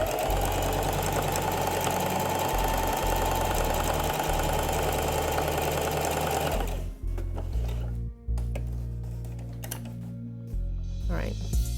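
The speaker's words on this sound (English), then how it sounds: "Every time you sit down at your sewing machine after you've got it threaded, you'll want to do a test piece." Home sewing machine stitching a test piece of fabric, a fast continuous whirring rattle for several seconds, then stopping, followed by quieter handling clicks and a few soft thumps.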